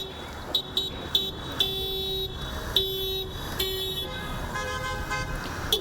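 Car horns honk repeatedly from passing vehicles in a drive-by protest over rent payments during the pandemic, a mix of short toots and longer blasts, fairly loud and overlapping against steady traffic.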